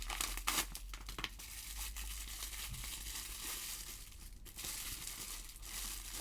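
Packaging for a Pimoroni Picade X arcade kit is torn and crinkled open in quiet, close bursts of paper and plastic rustling, with a steady low hum underneath.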